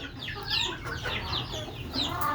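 Desi chickens cluck on a building rooftop during heavy rain, with repeated close, lively clucks over a low background rumble.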